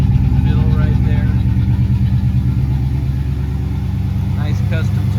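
A 1954 Chevy 3100 truck engine idles through duals feeding a single dual muffler, a steady, close, throbbing rumble with an even pulse while a person talks over it.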